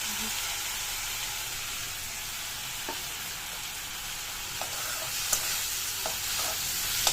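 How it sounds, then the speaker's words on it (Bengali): Onion, tomato and green chilli with turmeric and salt fry in hot oil in a pan, giving a steady, even sizzle broken by a few faint clinks of stirring. "তো পেঁয়াজটা একটু ভাজা ভাজা করে নিচ্ছি। এখন টমেটো লঙ্কা যেগুলো আছে ওগুলো সবগুলো হলুদ আর লবণ হলে দিয়ে দিচ্ছি।"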